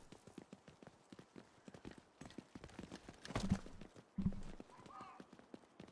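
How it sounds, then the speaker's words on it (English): Game footsteps from Division 2, a steady run of soft clip-clopping steps moving nearby, with a couple of louder thuds and voices talking over them. "Footsteps."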